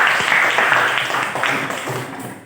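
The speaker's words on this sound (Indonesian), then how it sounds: "Sekarang kita berikan aplaus untuk teman kita" Applause from a classroom of students for a classmate after a presentation, a dense patter of many hands clapping that fades gradually over a couple of seconds.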